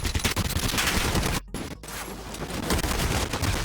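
A weapon fires in the video game Warzone, a rapid run of loud, dense gunshots that breaks off briefly twice near the middle, then resumes with sustained crackling shots to the end.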